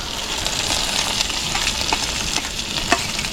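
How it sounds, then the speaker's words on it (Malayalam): Tomatoes and onions sizzle loudly in a hot pan with a steady, close frying hiss and occasional stirring scrapes, cooked roadside by a traveller; no speech. "തക്കാളി ഉള്ളിയൊക്കെ അതിലേക്ക് അങ്ങനെ ഇറക്കി കൊടുക്കാം"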